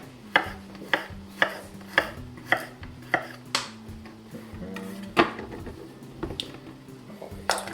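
A knife slices garlic cloves on a cutting board for tuna pasta, with a steady run of crisp, close chops about twice a second that pause briefly and then resume.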